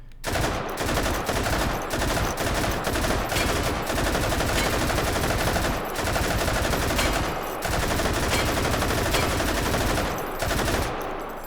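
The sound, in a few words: RPD machine gun firing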